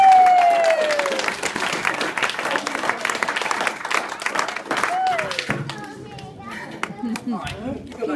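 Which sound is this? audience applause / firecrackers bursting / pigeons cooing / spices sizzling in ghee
audience applause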